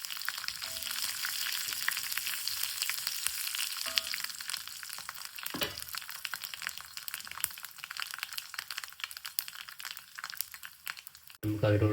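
Dried red chillies, mustard seeds and curry leaves splutter and crackle in hot oil for a Kerala mango curry, a dense run of sharp pops and sizzling with brief metallic clinks near the end.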